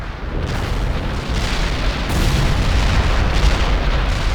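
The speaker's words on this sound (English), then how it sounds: "Artillery barrage turned the target area into dust." An artillery barrage in the World in Conflict strategy video game, heard as a dense, loud, continuous roar of overlapping booming explosions rumbling without a break.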